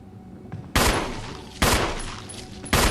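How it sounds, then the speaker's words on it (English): Three loud, sharp handgun shots in Resident Evil HD Remaster, spaced about a second apart, each with a quick decaying tail over quiet game ambience. "See me shooting at his knees."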